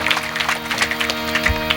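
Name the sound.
audience clapping once during a kirtan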